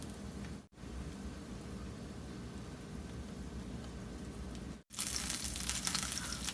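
Potstickers browning in a pan give a steady, soft sizzle and crackle throughout, with two brief cut-outs and a brighter, louder frying hiss toward the end.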